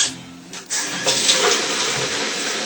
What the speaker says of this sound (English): I'm going to add some more water to bring it up to 5 gallon